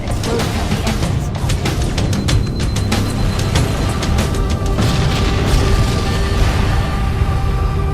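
Fusion reactor explosions in the Halo game erupt as a dense, continuous rumble of deep booms and crackling blasts, loud and sustained with repeated sharp bursts layered over a heavy low roar.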